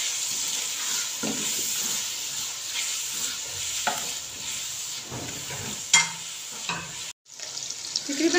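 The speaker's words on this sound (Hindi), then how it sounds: "तकरीबन 2 मिनट टमाटर को मैंने पकाया, टमाटर हमारे नरम हो गए।" Tomatoes sizzle steadily in a hot pan for angara karahi, with occasional stirring scrapes and clatters breaking through the constant frying hiss.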